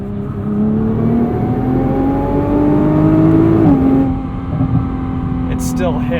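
A 2021 Nissan GT-R's 3.8-liter twin-turbo V6 pulls hard from inside the cabin, a steady droning engine tone rising in pitch through a gear, easing briefly, then building again with faint whooshes near the end.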